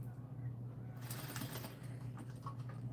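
Sewing machine stitching a seam on a knit set-in sleeve, a steady low motor hum running throughout, joined after the first second by faster needle rattle and clatter, close and continuous.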